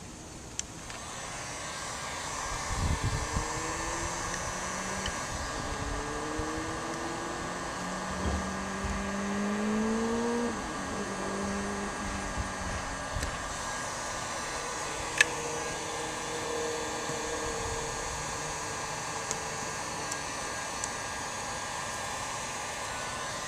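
A heat gun blows hot air over vinyl graphics during removal, a steady airy whine with a constant tone, joined by occasional scraping bumps and a sharp tick, fairly quiet and alone.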